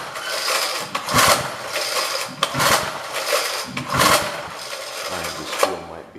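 An old rototiller engine runs rough and rattly, its loud mechanical clatter swelling and fading in repeated surges as if the throttle is changing.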